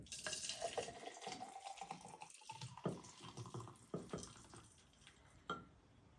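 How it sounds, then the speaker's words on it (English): Dirty pour of a Cobra's Fang tiki cocktail with its ice straight into a tiki glass, quiet close splashing and liquid trickling with a few sharp ice clinks, fading toward the end. "you're going to take and just do what we call a dirty pour. You're not going to strain the ice."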